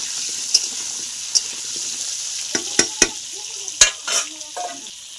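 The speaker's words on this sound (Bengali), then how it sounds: "এইবার তেলটা গরম হয়ে গেছে, এইবার আমি আলুটা দিয়ে দিলাম। আলুটা আমি ভেজে তুলে নিই।" Potatoes frying in hot oil give a steady, loud sizzle with sharp pops and spatters scattered through it, heard up close in a home kitchen with no voices.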